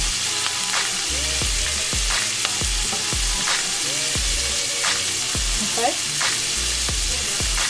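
Food sautéing in a pan ahead of cooking jerk salmon, a loud continuous sizzle broken by regular scraping strokes of a utensil and a brief spoken word.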